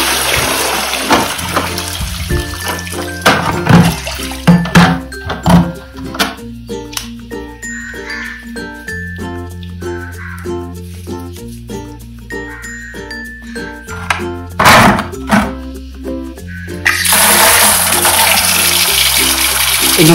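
Water pours and splashes into a container holding homemade white-cement marine aquarium rocks during a water change, with gurgling, trickling and tinkling bursts that are close and irregular, ending in a steady rushing pour.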